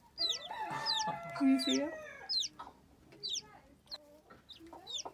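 A hen and her baby chicks cluck and peep up close on a Burrillville farm, with a mix of soft low clucks and high chirps, while a person briefly talks in the background.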